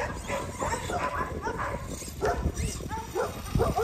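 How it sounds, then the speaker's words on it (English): Several neighborhood dogs bark, yip and whine excitedly at a large electric RC truck, an irregular overlapping chorus at mid distance, with a voice talking over them. "I think we got every dog in the neighborhood going crazy"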